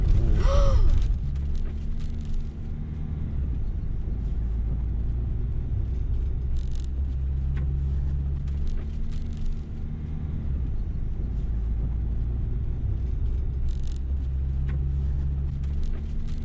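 A car engine idles at an unmanned toll bridge, a low, steady rumble that holds constant throughout after a short louder noise at the very start, with no voices.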